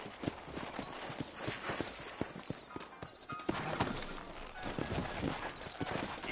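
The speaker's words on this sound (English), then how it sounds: "You ain't gonna find sturdier horses than these" Horse hooves in a video game clip-clopping at a steady trotting rhythm, fairly close, with faint rustling and background ambience around them.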